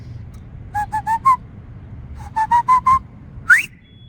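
A loud fingerless whistle made with the lips alone, in two sets of four short rising notes followed by a single sharp upward sweep, close and clear over a low background rumble.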